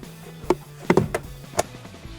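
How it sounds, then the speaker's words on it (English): Plastic glove box door being fitted into the dash of a Jeep Wrangler JL, heard as a few sharp close clicks and knocks spread irregularly over a couple of seconds, with faint low background hum. "Now we're going to install our glove box door."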